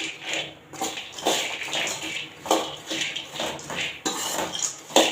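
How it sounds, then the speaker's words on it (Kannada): Raisins for a dry fruit laddu are tossed and stirred in a pan, a spoon clattering and scraping against metal in quick, repeated strokes, close and fairly loud, with no voices. "ನಂತರ ನಾನು ಇದಕ್ಕೆ ದ್ರಾಕ್ಷಿನ ಹಾಕ್ತಾಯಿದ್ದೀನಿ."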